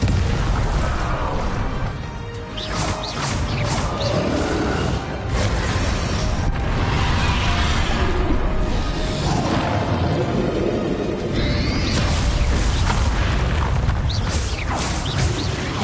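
Bombarda explosion spell cast in the Hogwarts Legacy game amid a loud, dense battle: repeated booming blasts and crashes over continuous rumbling effects, with voices shouting in the mix.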